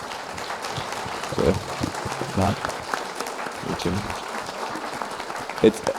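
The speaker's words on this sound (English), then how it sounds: "round of applause, please, for our panelists tonight" An audience at the Doris Duke Theater in Honolulu applauds panelists after a museum discussion, with steady clapping running under bursts of nearby talk.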